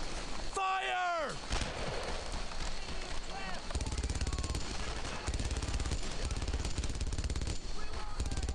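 Loud, relentless machine-gun and rifle fire from the World War II game Brothers in Arms: Earned in Blood, a steady crackling barrage broken briefly by a shouted voice near the start.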